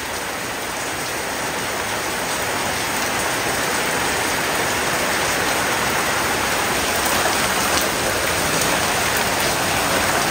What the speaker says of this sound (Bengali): আজকে আর এই বৃষ্টি কমতেছে না